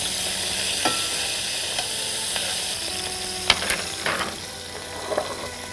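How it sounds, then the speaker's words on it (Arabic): Boiled pieces fry in hot oil in a pan, a steady close sizzle broken by a few scraping stirs and clinks of a utensil. No one speaks. "اللي سلقناها واحطها في الزيت علشان تتحمر"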